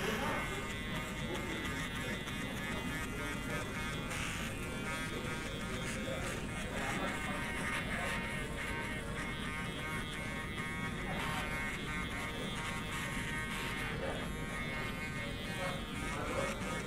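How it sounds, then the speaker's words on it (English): A faint, steady buzz of an Andis electric shaver trimming neck hair hums continuously at low volume, with no pauses. "we're gonna use our electric shaver by Andis"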